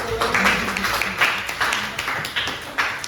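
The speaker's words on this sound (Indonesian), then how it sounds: "Kasih tepuk tangan dulu" Students clapping in a classroom during a lesson: fairly faint, uneven rounds of clapping from a small group, with some voices mixed in.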